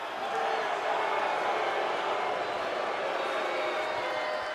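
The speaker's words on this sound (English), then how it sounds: "The boos from the crowd." A wrestling arena crowd booing, a broad, sustained roar of many voices that holds at an even level throughout.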